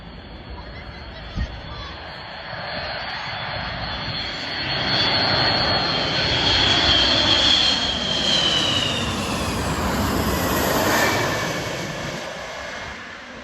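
A refuelling tanker aircraft returning to base after a mission over Italy flies overhead. Its steady engine roar swells as it comes nearer, peaks in the middle and slowly fades away, with a faint murmur of people in the background.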